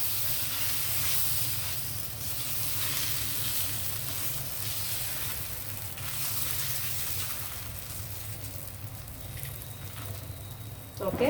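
Ragi dosa batter, finger millet flour mixed into dosa batter, sizzles on a hot pan as it is spread, a steady close hiss and crackle running throughout.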